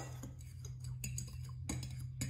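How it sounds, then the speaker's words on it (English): A fork stirs dry ingredients in a bowl in small circles, giving faint, irregular clinks and taps against the bowl over a low steady hum. "we're just gonna sift it together with a fork"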